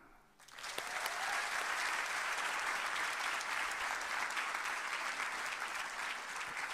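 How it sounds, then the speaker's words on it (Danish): Crowd at a Bible camp meeting breaking into applause, starting abruptly after a brief hush and holding a full, even roar of clapping to the end. "næsten alle klapper"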